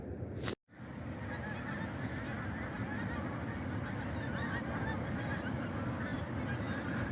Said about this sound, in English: So it's either ducks or geese.